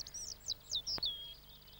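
A robin sings a short phrase of high, thin, sweet notes, about five quick twittering bursts then a sustained note, heard clearly and alone over a faint low background hum.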